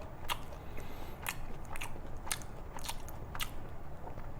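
Close, crunchy bites and chewing of mushrooms eaten alongside pork, four or five distinct crisp crunches spaced about a second apart over a low steady background hum.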